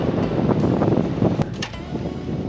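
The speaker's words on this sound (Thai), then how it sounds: "วันนี้ลมแรงมากเลยครับ" Strong wind buffets a campsite at Kiritharn Dam in Chanthaburi, Thailand, a continuous loud rushing roar with gusty swells and occasional flaps and knocks, close to the microphone.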